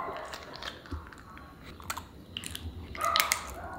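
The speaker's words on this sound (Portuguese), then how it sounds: "Ela come, faz uma bagunça com esse gelo, morde e fica lá se refrescando." A pet dog bites and crunches on ice cubes, with repeated moist chewing and crunching sounds at close range, growing louder toward the end.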